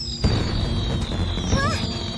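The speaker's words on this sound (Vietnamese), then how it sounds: "Pháo hoa lại đến rồi." Animated fireworks go off: a dull boom thumps early, then a short rising whistle chirps, all over a dense, noisy rumbling background.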